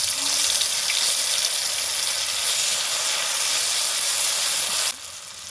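Water is poured from a rinsed spice plate into a hot pan of spinach and paneer curry, giving a loud, steady hiss and sizzle that stops abruptly near the end.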